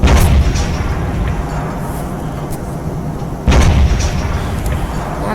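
Cluster and napalm explosions in the video game Teardown deliver two heavy, booming blasts a few seconds apart, with rumbling, crackling debris sustaining loudly between and after them.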